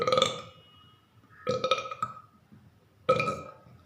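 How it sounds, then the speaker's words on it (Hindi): Deliberate burps after swallowing air, done as a breathing practice: three loud, close, drawn-out belches at intervals, with nothing else heard between them. "और डकार लेकर बाहर निकाल दिया"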